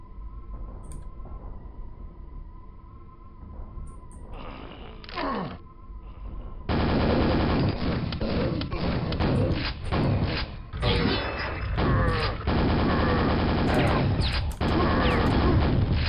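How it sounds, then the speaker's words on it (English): Video game gunfire with lots of shooting sets in after a quieter start, then carries on as rapid, loud, dense bursts of shots and thuds, near and almost continuous. "A lot of shooting to be done here."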